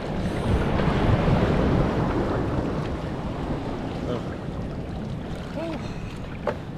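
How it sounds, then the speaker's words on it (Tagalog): Big ocean waves and a strong current at sea around a small fishing boat, a loud churning wash of water with heavy wind rumble on the microphone and faint voices underneath. "Malaki ang alon."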